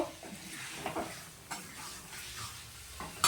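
Meat sautés in a pan while being stirred, with repeated scraping strokes over a continuous sizzle and a sharper scrape at the close.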